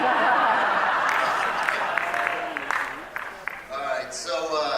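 Theatre audience applause at a comedy show, a broad wash of clapping that fades steadily over a few seconds, mixed with scattered laughter and a voice speaking as it dies away.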